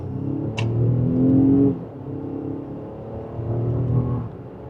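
A 2026 Nissan Pathfinder Platinum 4WD pulls hard from second gear in sport mode, its engine rising to a steady droning rev as it gathers speed.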